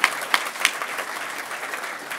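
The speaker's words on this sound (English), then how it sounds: "Can we give them a round of applause, please?" An audience at an education open-source awards event applauds for the nominees, a few sharp individual claps standing out over a steady wash of clapping from the room.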